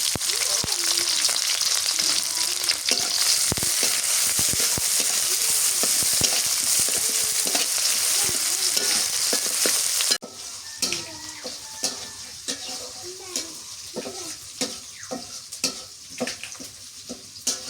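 Chopped onion and green chillies frying in a pan after whole spices are tempered in hot oil, a loud dense sizzle that drops to a softer crackle with stirring clinks, someone speaking faintly underneath.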